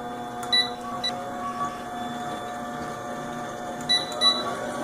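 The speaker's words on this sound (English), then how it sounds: "we're just going to let the mixer do its work and wait until we get stiff peaks" A stand mixer on a low speed setting whips heavy whipping cream with a whisk attachment, giving a steady, even motor hum with a few faint clicks and ticks over it and no one talking.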